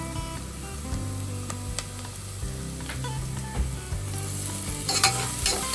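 Ginger paste with turmeric sizzles steadily in a hot pan for pav bhaji, with a spoon stirring and scraping through the mixture at intervals, close and continuous.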